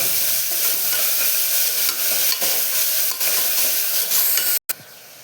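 Cabbage stir-fries for cabbage kootu, a loud constant sizzle and hiss with occasional stirring knocks, cutting off abruptly near the end.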